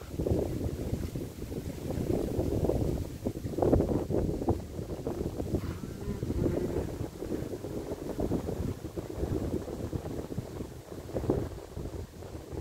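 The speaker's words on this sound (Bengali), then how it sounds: "বাতাস আর বাতাস এই জায়গায়" Strong wind buffets and roars in uneven gusts, rumbling low and close, with no voices heard.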